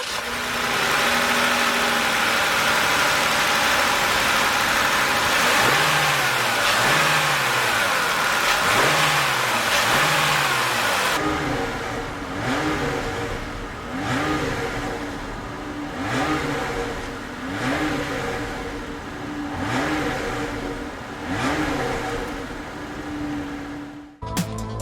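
A 2020 Chrysler Pacifica's 3.6-liter V6 idles steadily, then is revved repeatedly in short blips that rise and fall in a regular rhythm, loud and close from the exhaust with no talking.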